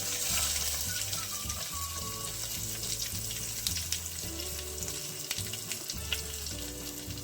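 Mustard seeds, cumin and garlic fry in hot oil with a soft crackling sizzle and scattered pops, while a steady tonal hum runs underneath throughout.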